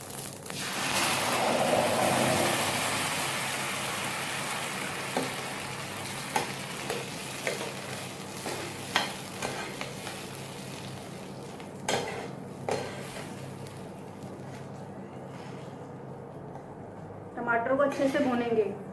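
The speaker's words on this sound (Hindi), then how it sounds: "टमाटर को अच्छे से भूनेंगे।" Tomato puree fries in a pan with curry leaves, a steady sizzle under a voice talking, with occasional scrapes and taps of a spoon stirring against the pan.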